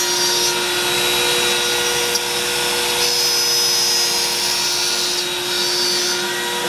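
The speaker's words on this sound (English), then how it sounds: "here we have the CNC machine working away." A CNC machine cutting in a workshop gives a steady, loud droning roar with faint whining tones, unbroken and level for the whole stretch.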